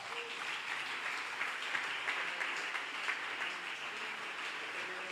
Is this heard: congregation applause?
yes